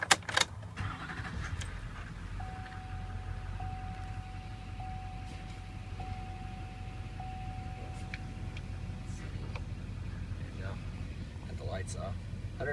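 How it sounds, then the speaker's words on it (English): A 2006 Chevy Silverado LBZ 4x4 with 105,253 miles fires up and settles into a steady, low diesel-style rumble close by under the open hood, with a faint chime tone and some clicks over the running engine. "Now I'm going to fire this thing up, open the hood, let you listen to it run under the hood."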